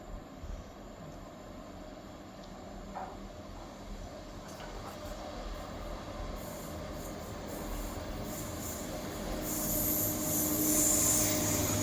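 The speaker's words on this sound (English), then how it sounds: "Arriving in now is the 1700 ScotRail service from Leven to Edinburgh Waverley." A ScotRail train from Leven to Edinburgh Waverley arrives at a station, heard as a low rumbling roll that steadily grows louder with rising rail hiss toward the end.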